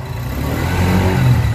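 A Suzuki Gixxer SF motorcycle engine revs up, its exhaust rising into a throaty, rumbling roar over a brief burst.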